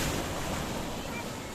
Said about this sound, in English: I'm being amazed how the waves are playing with each other